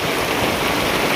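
Rain falls in a continuous, close broadband hiss, steady and unbroken throughout.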